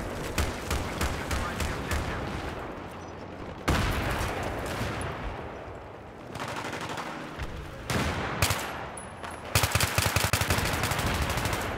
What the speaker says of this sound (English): Oh, these explosions!